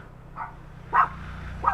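Dogs bark a few times at a distance in Bagac, Bataan, three short muffled yips spaced apart over a low background hum, faint and fairly far off.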